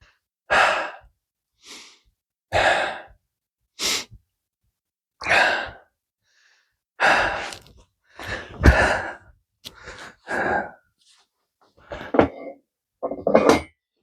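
Heavy breathing from someone catching their breath after a warm-up before weight training: about a dozen loud, close, irregular huffing inhales and exhales separated by short silences.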